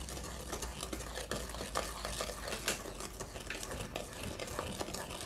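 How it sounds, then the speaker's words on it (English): A spoon scrapes and stirs thick giant-cookie dough in a pan with almond essence, producing a continuous, quiet scraping with irregular clicks and swishes. "Okay, it's your turn to mix now."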